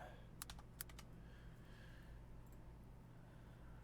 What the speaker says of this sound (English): I got to hit the keys on the top of it, which is kind of annoying when I'm typing in all this stuff